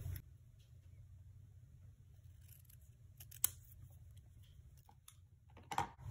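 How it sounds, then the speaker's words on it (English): Scissors snip through paper for a handmade message-in-a-bottle greeting card, a few quiet cuts over a low steady background hum, with sharper snips standing out near the middle and end. "I'm actually going to cut this piece a little bit shorter."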